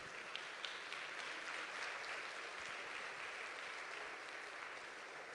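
Continuous applause from a church congregation fills the space, many hands clapping in an even, sustained patter at moderate distance with no talk over it.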